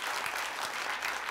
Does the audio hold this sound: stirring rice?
no